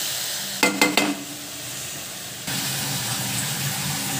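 Dal added to a sambar tempering with chili powder and sambar masala: a steady oil sizzle, a few quick clinks of a spoon on the pan, then a louder, fuller hiss as the dal goes in.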